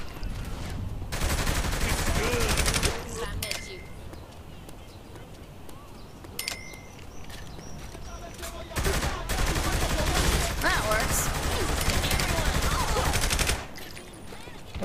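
Rapid gunfire bursts from the video game Saints Row The Third crackle loudly in two long volleys with a quieter stretch between, mixed with game effects and faint talk.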